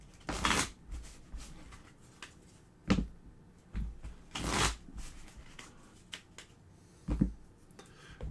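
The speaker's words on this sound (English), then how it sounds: "I'm going to give it a shuffle here so I can show you what hands kind of look like." A deck of board game cards is riffle-shuffled at a table, several quick ruffling bursts separated by taps and soft handling noises, close and clear with no talking.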